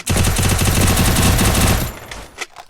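Rapid automatic gunfire from the Free Fire video game rattles in a loud, continuous burst, then tapers into a few scattered, fading shots.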